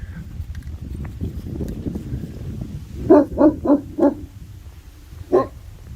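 On a hiking trail, after some low rustling, a dog barks four times in quick succession, then once more after a pause, fairly close and loud.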